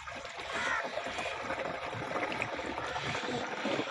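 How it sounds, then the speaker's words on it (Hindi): Gibberellic acid solution pours into a spray tank, a soft, steady trickle of liquid that runs continuously at low volume. "इसको भी अब हम टैंकी में डाल लेते हैं।"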